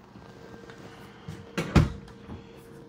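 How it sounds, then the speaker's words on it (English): Cabinet drawers in a 2024 Stryker 2916 Deluxe toy hauler travel trailer thud shut in a short cluster of knocks, one firm close louder than the rest, close by in a quiet interior. "Got a couple drawers down below"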